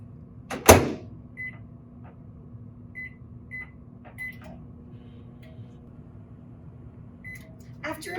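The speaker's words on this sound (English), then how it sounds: "you will put it in the microwave for about a minute" A microwave oven hums steadily at a low pitch, starting with a sharp clunk and broken by several short, faint beeps.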